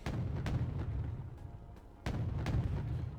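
Mortar fire in the battlefield strategy game Wargame Red Dragon lands as sharp booming impacts with low rumbling tails, several irregular blasts spaced over a few seconds at moderate distance.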